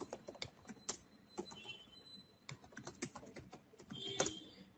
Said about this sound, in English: So if you're just typing in mobile phones